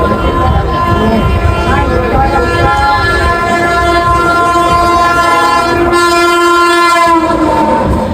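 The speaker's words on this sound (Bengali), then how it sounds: "দেখো ট্রেন চলে গেলে, ট্রেন চলে গেল।" A train rumbles past close by on the railway line, its loud horn blaring in sustained tones over heavy wheel and carriage noise that keeps going throughout.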